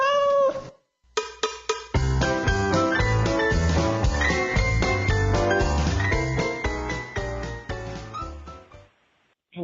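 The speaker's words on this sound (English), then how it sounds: "we just heard that wonderful cat commercial" A cat in a shelter pet adoption commercial gives a short meow at the start, followed by a bright, tinkling music jingle that plays on and then fades out.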